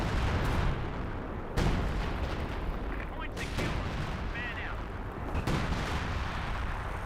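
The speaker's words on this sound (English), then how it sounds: "we've got some major artillery being brought on in" Artillery fire in the World War II strategy game Company of Heroes 2 booms in heavy, rumbling blasts, with sharp distinct impacts near the start and middle under a constant battle din, while a commentator talks over it.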